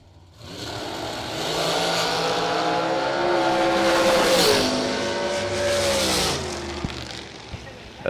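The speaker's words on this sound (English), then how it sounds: "this is going to be a great drag race" Drag race cars launching and accelerating hard at the 3rd Annual SFG 350 at Cedar Falls, a loud sustained engine roar with rising pitch sweeps across about seven seconds, ending abruptly.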